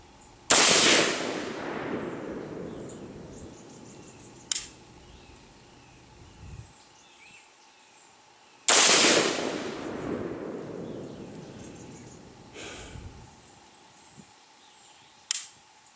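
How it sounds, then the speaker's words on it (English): Two loud rifle shots with an AK optic mount fired at targets, each a sharp crack followed by a long decaying echo across open ground, a few seconds apart, with small clicks and handling noises between them. "We're going to go ahead and shoot a group"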